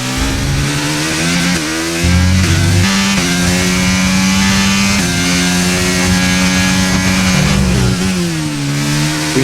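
A Formula 1 car engine in the racing game F1 23 screams loudly and continuously, its pitch climbing and dropping through gear changes at full speed.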